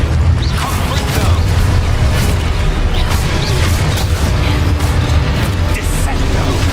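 A Confringo spell blast in the video game Hogwarts Legacy, a loud continuous booming roar of fiery explosive noise that stays steady throughout without letting up.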